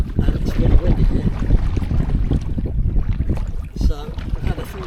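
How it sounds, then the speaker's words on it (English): Steady wind buffeting the microphone at Lake Rogen, Sweden, a low rumbling roar that persists throughout with uneven gusts. "it's really windy here"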